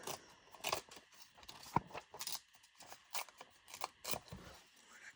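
A sheet of craft paper is torn along its edge for a collage, giving soft, quiet tearing and rustling sounds in short bursts with brief gaps between them, close by and with no talk.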